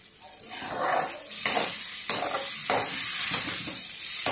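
Poha upma frying in a pan while chili powder and spices are stirred in, a steady close sizzle broken by a few sharp spatula scrapes against the pan.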